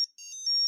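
A Mini Max kids' text messaging toy plays a short, quiet electronic ringtone of four or five bright beeping notes in quick succession, close and alone.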